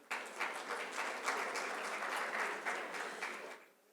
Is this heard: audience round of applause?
yes